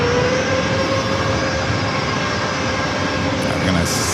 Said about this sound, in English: Florida, flight 707 in this Airbus A220-300